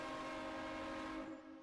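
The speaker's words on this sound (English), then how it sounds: "you got a train horn" A train horn from the emergency-services video game EmergeNYC, on a rescue vehicle, blares in a long, sustained chord, loud and steady, then cuts off and fades at the end.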